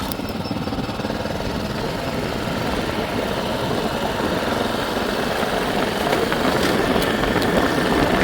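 A motorcycle engine idles steadily up close, a continuous low, rumbling throb with no talking.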